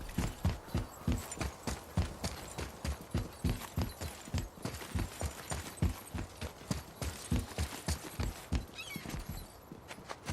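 Steady clip-clop of horse hooves walking in the God of War video game, a continuous even rhythm of close, loud hoofbeats running throughout with no voices.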